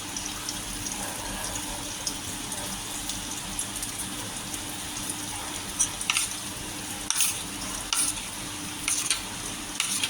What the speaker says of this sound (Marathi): तेल मी गरम करत ठेवलेलं आधीच. हे गरम झालं आहे थोडं. असं हे असं सोडायचं.